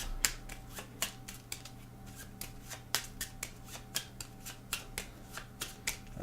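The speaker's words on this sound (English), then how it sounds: "Shuffle up our backgrounds." Roll Player background cards are shuffled on a table in about fifteen quick riffle bursts, close and crisp, each a short snap with brief pauses between, and no talking.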